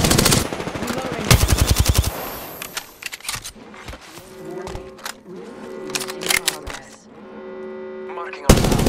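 Rapid automatic gunfire in the battle royale game Apex Legends, loud dense bursts at the start and again at the very end, with scattered single shots and game effects in between.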